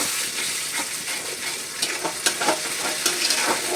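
Chana dal poured into hot gravy whose oil has separated from the spices, frying with a steady close sizzle, stirring scrapes and a few sharper splatters.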